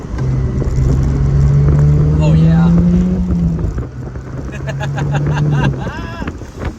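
Pontiac Solstice GXP roadster accelerating hard in its competitive mode, a loud engine drone rising in pitch through the gears and then easing off, with wind noise throughout and a person exclaiming briefly over it.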